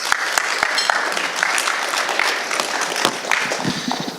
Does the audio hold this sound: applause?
yes